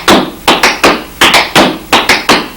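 Flatfoot dance steps on a hard floor: sharp heel and toe taps grouped in quick threes, close and loud, with the clusters repeating steadily and no voices.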